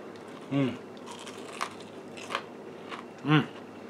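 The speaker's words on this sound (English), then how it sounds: "That's good and crunchy." Two loud crunchy bites into crispy fried chicken, one near the start and one near the end, with small crackles in between.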